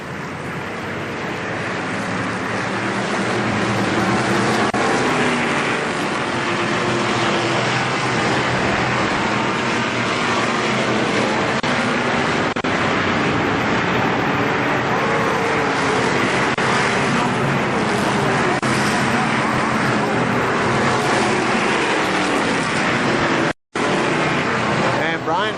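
Pro stock race cars roar around Kil-Kare Speedway in a loud, steady wash of engine and track noise, with a track announcer talking over it throughout.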